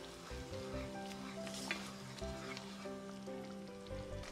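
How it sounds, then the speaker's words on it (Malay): Steady sizzling of star anise, cloves and cardamom frying in hot oil, a continuous crackle with light stirring scrapes, no talking. "Tumiskan sehingga harum."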